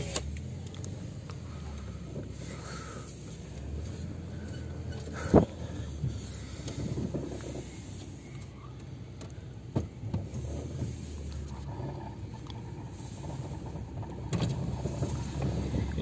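Car interior on an island road with a side window partly lowered, a steady low rumble of engine and wind running throughout, with occasional faint knocks and bumps.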